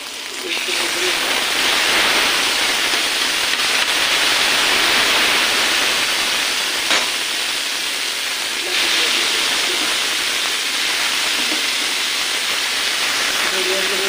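Chicken wings and pigeon meat frying in a pan with onion, dried chilli, ginger-garlic paste and salt give off a loud, steady sizzling hiss throughout, with a faint voice beneath it.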